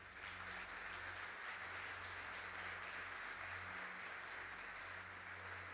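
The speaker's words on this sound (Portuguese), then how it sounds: "Você pode aplaudir o Senhor pela vida dele?" Sustained applause from a church congregation, steady and dense across the whole stretch with no break, with a low hum underneath.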